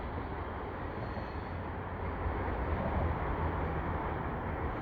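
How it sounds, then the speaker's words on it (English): A CPKC freight train rolls westbound beneath the Dorval highway ramp in Montreal, producing a steady, continuous low rumble and broadband roar that swells slightly near the end, with no talking. "as the train makes its way underneath the Dorval ramp here,"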